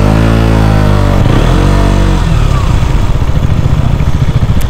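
A 2019 KTM Duke 125 motorcycle engine runs loud and close, its steady harmonic drone shifting in pitch and then settling into a rough, pulsing idle with no talk over it.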